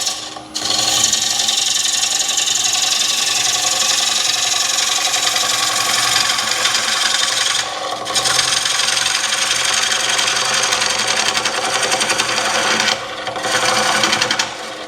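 A bowl gouge cuts into a spinning wooden bowl blank on a lathe, a loud, sustained rasping shear with two brief pauses where the tool lifts off the wood.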